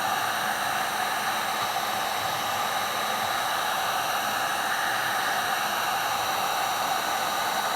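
A heat gun blows steadily while softening layers of old paint on a bass guitar body, a constant, loud fan-and-air hiss with no variation and no voices.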